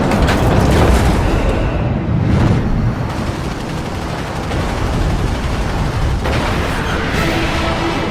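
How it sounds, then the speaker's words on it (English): A huge fireball explosion from an aircraft hit in an aerial dogfight, a loud rumbling boom with a roaring, sustained tail that swells again partway through. "Then a huge fireball."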